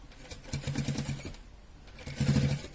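Sewing machine stitching a small seam on a baby frock, running in two rhythmic bursts of rapid needle clatter separated by a short pause, close and steady with no talking.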